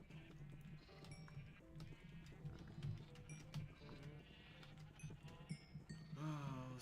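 Baby sheep in a Minecraft-style farming game bleat faintly in overlapping calls over a soft ambient background, with a few quiet footstep-like clicks.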